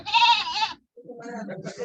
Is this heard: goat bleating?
yes